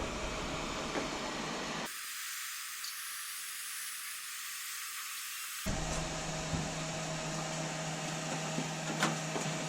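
Heat gun blowing on a sticker on a car, a close, steady hiss of rushing air that briefly shifts to a thinner, brighter tone partway through before returning, with no talk.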